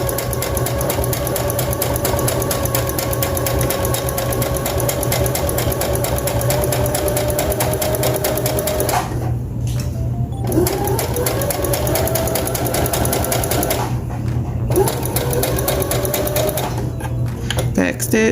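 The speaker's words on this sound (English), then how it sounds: "And then I'll go back and I'll back stitch." Sewing machine back stitching a seam on baby sarouel pants, a steady close mechanical whir that runs continuously, pausing briefly a few times as the stitching reverses direction, with a voice talking over it.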